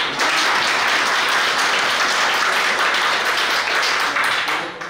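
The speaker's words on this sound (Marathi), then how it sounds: "सर्वांनी टाळ्या वाजवायच्या" Students clapping together at a school reunion get-together of a 1990-91 batch, a dense continuous burst of applause lasting throughout and easing off at the end, with no talk over it.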